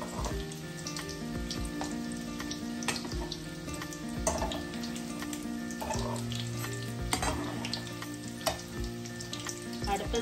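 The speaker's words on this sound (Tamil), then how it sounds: "அடுப்ப சிம்மில வச்சுட்டு பொரிச்சிடுங்க" Egg cutlets fry in oil over a low flame, a dense continuous crackling sizzle with occasional louder pops and faint clinks, close by and steady throughout.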